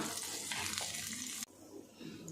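Ingredients for mango chammanthi sauté in a pan, a close, bright sizzle with stirring that cuts off abruptly partway, leaving quieter hiss and faint clatter.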